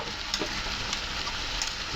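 Spices with turmeric and ground chili sizzle steadily in hot oil in a pan, a continuous close frying hiss with a few faint stirring scrapes and no talking.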